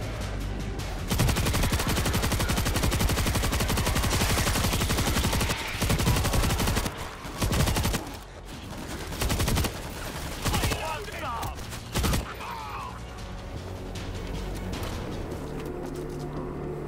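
A heavy gun fires in the zombie shooter World War Z, set in Jerusalem, with long bursts of rapid, loud automatic fire broken by short pauses, then a few separate single blasts and a lingering noisy background.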